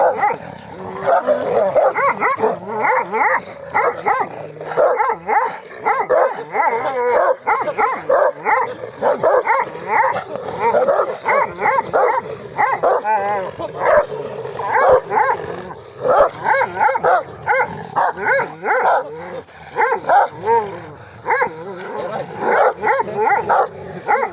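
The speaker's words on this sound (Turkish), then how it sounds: "yani değişik bir köpek arkadaşlar" A dog barks and yips repeatedly in close, uneven bursts, mixed with whining whimpers, over roughly twenty seconds.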